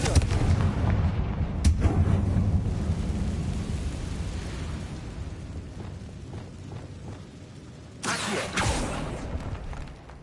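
A Confringo fire spell blasting in the video game Hogwarts Legacy, a deep booming explosion with rumbling tail, followed later by a second sharp burst, loud and close.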